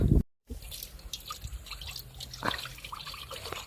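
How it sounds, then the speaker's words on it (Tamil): About one litre of water is poured into a pot over an outdoor wood fire to clean snails, making a faint, steady trickle with small drips and splashes, close by. "தண்ணி ஊற்றியாச்சு"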